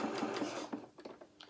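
A sewing machine stitches across a doll shirt hem in a quick, faint, rhythmic run of needle chatter that breaks into a few scattered clicks near the end.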